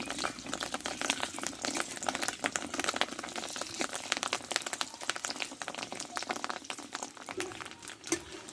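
Fish roe fritters frying in oil in a pan, a dense continuous sizzle and bubbling crackle that stays fairly loud and even throughout.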